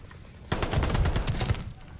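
Automatic gunfire in Call of Duty, a video game: after a quiet start, a sudden rapid burst of shots rattles for about a second, loud and close, then cuts off.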